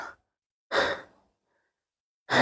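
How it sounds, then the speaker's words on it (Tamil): A trekker climbing the Kondarangi hill trail breathes heavily, with three loud, close, breathy exhales or sighs separated by short silences. "அதுக்குள்ளே மூச்சு வாங்க ஆரம்பிச்சிச்சு."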